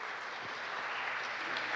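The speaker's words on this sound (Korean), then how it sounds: "큰 박수로 맞이해 주시기 바랍니다." Audience applause welcoming a professor to the stage at a security conference talk on smart card vulnerability analysis, a short, steady, faint spell of clapping from the room with no talk.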